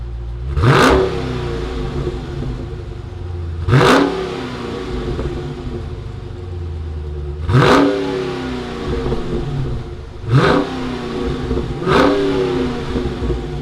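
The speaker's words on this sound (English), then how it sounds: "Let's fire up this muscle car and see what it sounds like." A Dodge Challenger R/T Scat Pack with a Hemi V8 and 1320 package idles with a deep rumble, broken by five sharp, loud revs that climb and fall back, heard close without talk.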